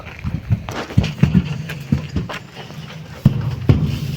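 Horse hooves clopping on a hard surface in an uneven walking rhythm, close and fairly loud, with some shuffling between steps.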